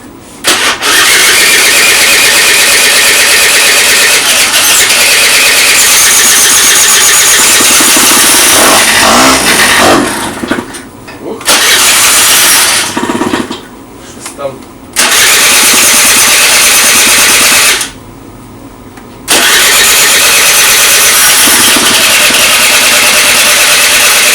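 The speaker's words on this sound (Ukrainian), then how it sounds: "І зараз будемо пробувати, як він заведеться" A repaired 60 cc Honda ZX scooter with a rebuilt crankshaft is started for the first time: loud, close engine running and revving, cutting out several times with brief silences before catching again, no talk.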